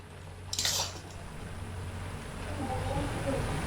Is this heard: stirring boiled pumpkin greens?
yes